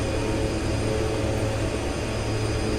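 Airplane engine droning in steady flight in X-Plane 11 on a route from Grand Bahama International toward North Perry Airport, Florida, a loud, even, unbroken rumble with no voices.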